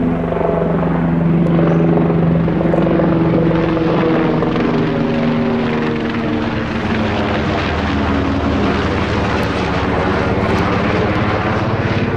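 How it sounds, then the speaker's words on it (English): A helicopter passes low overhead outdoors in the woods, its rotor chop loud and steady throughout with a slowly shifting engine whine, no voices. "there's another chopper coming right over me too"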